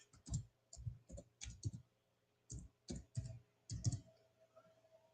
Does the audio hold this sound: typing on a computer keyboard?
yes